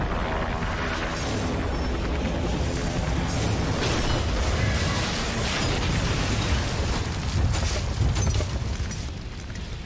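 A helicopter shot down and exploding in the video game Beyond Two Souls, a sustained roaring blast with crackling bursts and debris-like pops, loud and continuous throughout.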